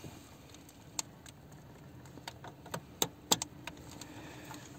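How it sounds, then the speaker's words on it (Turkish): A car stereo's wiring connector is handled and pushed into its socket: a sparse series of quiet plastic clicks and small rattles, with a couple of sharper snaps near the end over a faint background hiss. No one speaks. "Soketimizi geçirelim."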